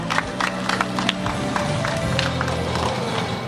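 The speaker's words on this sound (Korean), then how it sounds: "여러분 큰 박수 부탁드리겠습니다." Crowd applause and cheering from an audience at the opening ceremony of a county residents' sports festival, a broad steady wash of clapping with scattered sharper claps throughout.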